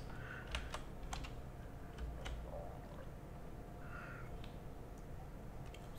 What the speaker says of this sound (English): I have a Corsair keyboard K95